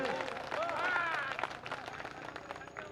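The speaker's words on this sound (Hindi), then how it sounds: "एक बार जोरदार ताली बजाएं।" An audience at a Hindi poetry gathering (kavi sammelan) breaks into clapping, a dense patter of hands under a voice raised in speech, the applause gradually fading.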